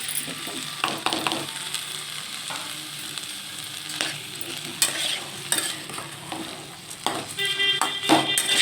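Masoor lentils stirred into banana flower frying in a pan, a steady soft sizzle with scraping spatula strokes and clicks at close range, no talking.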